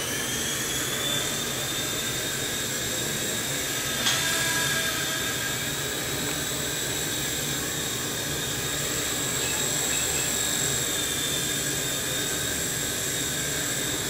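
Small T-REX 100X RC helicopter flying indoors, a steady high-pitched motor and rotor whine with a slight bump partway through, continuous and fairly close, with no talking.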